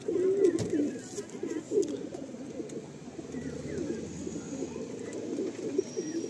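Madrasi pigeons kept for tournament flying coo softly and repeatedly in a low, rolling murmur, with several birds overlapping at close range and faint chirps above.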